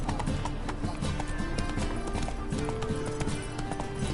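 Horse hooves clip-clop at a steady gallop in a video game, with rhythmic thuds running throughout alongside busy game ambience and music, close and fairly loud.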